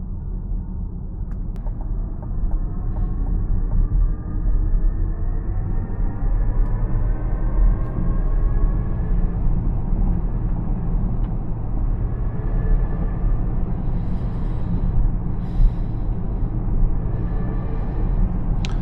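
A 2024 Chevrolet Equinox EV cruising on the road at highway speed, its steady low road and tyre rumble constant and fairly loud throughout, with no voices.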